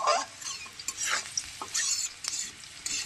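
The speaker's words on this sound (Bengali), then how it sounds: "একটু ভাজা হয়ে যাক পেঁয়াজটা, দেখুন।" Onion frying in a pan, a close sizzle broken by rapid spatula stirring scrapes and clinks over a few seconds.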